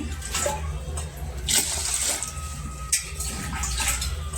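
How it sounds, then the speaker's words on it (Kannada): Water pours from a glass onto ration rice and lentils in a cooking pot, a continuous close splashing flow that swells and dips in brief surges without pause. "ನಾನು ಒಂದು ಮೂರು ಗ್ಲಾಸ್ ನೀರು ಹಾಕ್ತೀನಿ"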